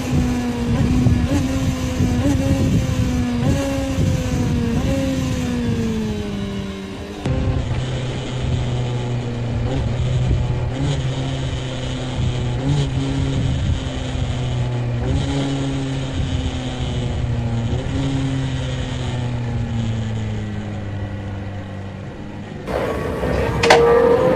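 A motorcycle engine downshifting through the gears, its pitch stepping down in repeated stages with quick throttle blips at each shift, a steady, close drone that runs throughout and cuts abruptly near the end.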